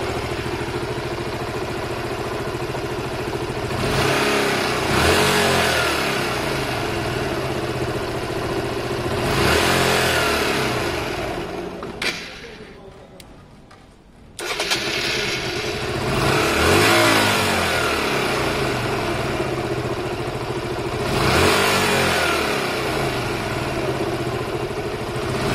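A Honda Varadero 125 motorcycle engine being carburettor-tuned, idling with repeated swells of revving every few seconds and a brief drop near the middle, close and steady with no talk.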